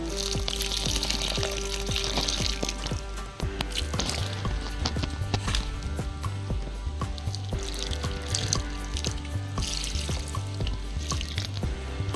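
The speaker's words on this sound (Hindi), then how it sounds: "बाकी के जो प्लांट्स हैं उनमें भी हम इसी तरह से पानी डाल देंगे" Water splashes and trickles continuously onto freshly planted rose plants in a thermocol box, a close, steady spattering with dense droplet patter and a brief dip partway through.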